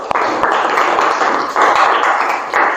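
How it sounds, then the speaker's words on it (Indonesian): Classroom applause for two students in a junior high maths lesson, a steady burst of dense clapping from a group of pupils that runs throughout, with slight swells in intensity. "Tepuk tangan untuk Ahda dan Aidil"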